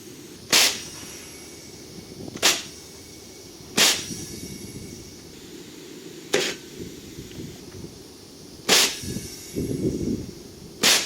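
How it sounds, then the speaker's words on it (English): Homemade pneumatic water blaster for a haunted house effect firing compressed air through solenoids, six sharp, loud hissing blasts spaced a second or two apart over a low background hum. "So far, I've been firing both solenoids at the same time."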